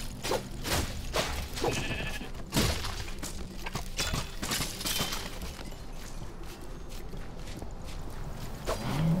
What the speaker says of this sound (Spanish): Una oveja, crack.